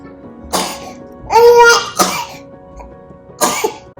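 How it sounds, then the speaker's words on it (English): A child coughs several times in short, harsh bursts with pauses between them, close to the listener, after a bronchoscopy in hospital. "constantly coughing is apparently normal for a bronchoscopy"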